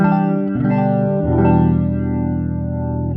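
Clean electric guitar chords run through an AmpliTube 5 boutique amp simulation with chorus and effects, strummed and left ringing in a lush, sustained wash; loud and alone, with no talk.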